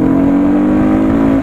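Motorcycle engine running loud and close, a steady buzzing hum with a strong constant tone and no clear gear change in the brief stretch.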